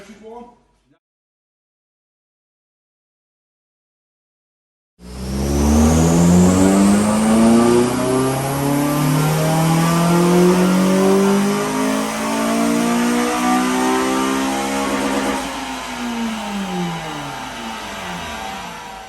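A black Honda Civic Type R FN2 with an Ecutek remap revs on a dyno during a power run, engine note climbing steadily and loudly through the gears for about ten seconds before easing off, after a brief spoken intro.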